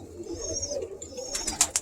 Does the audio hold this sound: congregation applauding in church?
no